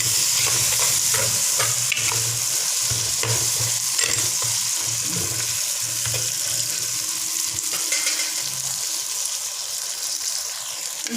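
Chicken curry sizzles and fries in a pan as tomatoes go in, a constant crackling hiss with clattering stirring scrapes throughout, close and fairly loud.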